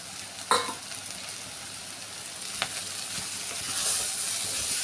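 Tomato is stirred into sabzi frying in a pan: a soft, continuous sizzle with a couple of sharp utensil clinks against the pan and gentle scraping as the mixture is moved.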